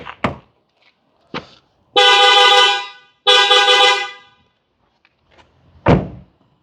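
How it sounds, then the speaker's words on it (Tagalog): Mitsuba Arena 3 car horn fitted to a Toyota Prado LC250 sounds two long, loud, steady blasts back to back, framed by a few short thunks and clicks before and after. "the hottest horn in the market, the Mitsuba Arena 3"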